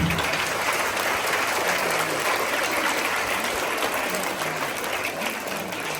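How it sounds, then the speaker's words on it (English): Dense, sustained applause from a large crowd, even and continuous, fading slightly toward the end. "so give him a clap."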